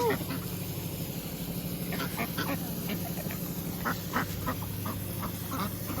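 Ducks quack repeatedly nearby over steady outdoor background noise, short nasal calls scattered irregularly through the scene.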